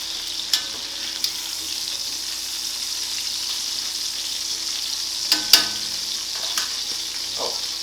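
Steak sizzles steadily on low heat in a Dutch oven, a soft continuous frying hiss with a few sharp pops and crackles.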